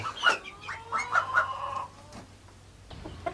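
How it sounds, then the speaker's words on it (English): Farm chickens and other poultry squawking and clucking in loud overlapping bursts, with a rooster-like call, then quieter background on a homestead morning. "Just a lot of that squawking and another rotten morning."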